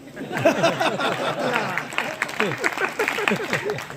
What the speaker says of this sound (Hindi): खूब बजाई आपने तालियां